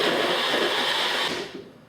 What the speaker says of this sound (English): So blend it in your high-speed blender, whatever blender.